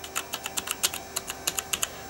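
Typing on the keyboard of a Toshiba T6600C portable 486 laptop, about a dozen crisp, evenly spaced clacky keystrokes close up with no voices.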